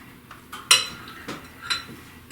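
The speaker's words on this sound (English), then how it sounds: "So once I get this all folded in, I'm going to fold in the chip." A spoon folds chocolate chips into pumpkin chocolate chip muffin batter in a mixing bowl, giving a few sharp, close clinks of utensil against the bowl between soft scraping sounds.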